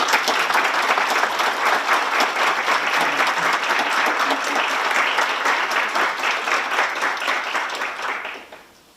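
A large audience at an early-education seminar applauds loudly and steadily for several seconds after a stage performance, then the clapping fades away.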